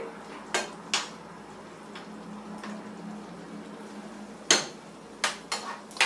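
A pot lid set onto a pot of tilapia cooking in a spiced sauce, with a few sharp metallic clinks and knocks spread over quiet kitchen background.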